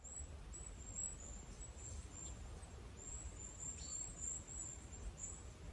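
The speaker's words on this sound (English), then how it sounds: "That birdsong is amazing." Faint, high birdsong trills and chirps drift through still woodland on the Isle of Skye in the Scottish Highlands, with a soft low background hum.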